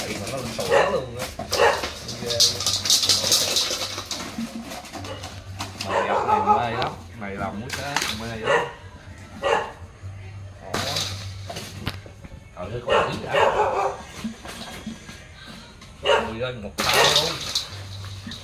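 A dog barks in repeated bursts at a rural home, the barks mixed with footsteps and some splashing water, and people talk in between.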